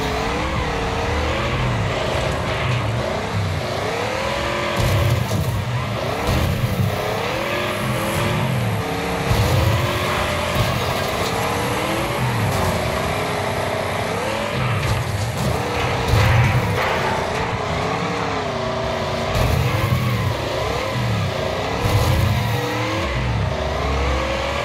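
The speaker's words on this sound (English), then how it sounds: "crush some cars in Wreckfest 1" Demolition racing in the Wreckfest video game with a Grand Duke car: continuous roaring and revving engines, shifting gears and occasional tire squeals and knocks from cars racing and colliding, loud and steady throughout.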